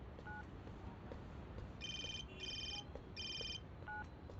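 A telephone rings with three bursts of an electronic trilling ring, each about half a second long, close and clear over a quiet room hum, with short beeps before and after.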